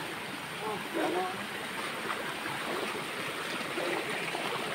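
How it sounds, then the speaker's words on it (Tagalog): Waterfall rushing steadily at a moderate distance, a continuous broad hiss of falling water with voices talking over it. "Ito yung waterfall gaw?"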